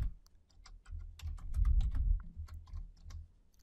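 Close, quick typing on a computer keyboard: a rapid, uneven run of light key clicks that gathers into a denser burst midway, then trails off into scattered taps.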